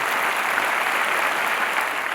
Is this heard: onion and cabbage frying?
no